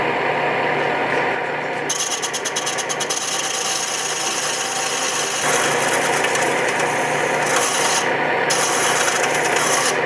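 Gem faceting machine slowly grinding a stone at about 700 RPM, a steady close rasping rub that drones on throughout, shifting in texture partway as the lap contacts the facet, with no talk.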